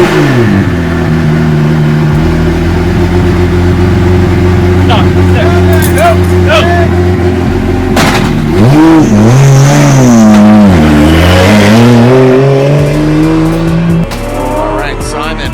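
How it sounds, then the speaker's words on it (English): A Formula Drift car at Road Atlanta fires up and revs hard, a loud close engine idling roughly before rising and falling in sweeping revs, with tire squeal and crowd voices mixed in. "Fire the car."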